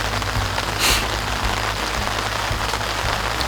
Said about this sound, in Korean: 지금 좀 전부터 비가 내리기 시작했어요